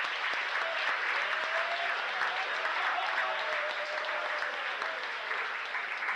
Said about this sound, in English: let's give a big round of applause to Cheryl Wolk and the kitchen staff for the fantastic meal